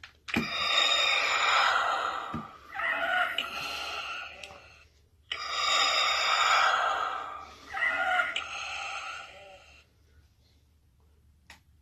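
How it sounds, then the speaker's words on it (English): A Star Wars Black Series Darth Vader helmet toy plays its wheezing breath effect: two long, loud hissing inhale-exhale cycles, each breath split into a broad airy rush followed by a shorter breathy swell. "when all this is off, and you're wearing just this part, then it makes the wheezing sound"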